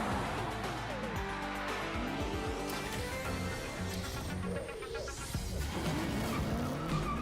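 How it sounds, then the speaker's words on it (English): A street racer car in a video game revs and skids, tires squealing repeatedly over a continuous engine drone, with loud game sound throughout. "How did you get that street racer over top of that train?"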